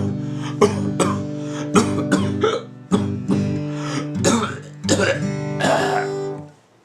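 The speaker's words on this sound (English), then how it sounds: "going to make a sound of coughing" Someone coughs deliberately in a string of about six sharp, forceful bursts, each trailing into a voiced, throaty tail, loud and close, with a brief pause between each.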